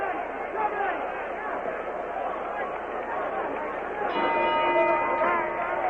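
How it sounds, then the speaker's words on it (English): A boxing ring bell rings to end round 3 of the Larry Holmes vs Mike Weaver heavyweight fight. It comes in late as a sustained ringing tone beneath steady commentary and arena crowd noise. "Bell ending round 3"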